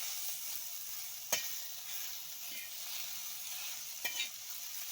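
Garlic frying in a pan for chutney, a steady soft sizzle with occasional sharp spoon scrapes and knocks against the pan, close by and with no talk.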